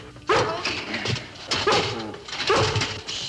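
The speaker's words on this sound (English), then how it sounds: "Stop that barking!" A dog barks and whines in three loud bursts about a second apart, fairly close, with yelping, whimpering tones in between.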